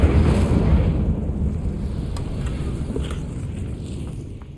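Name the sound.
Incendio fire spell cast in the video game Hogwarts Legacy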